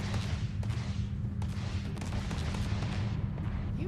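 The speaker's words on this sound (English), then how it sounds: "I hear gunshots." Rapid bursts of distant gunfire in the video game Starfield crackle over a low rumbling background, shots coming in quick irregular volleys throughout.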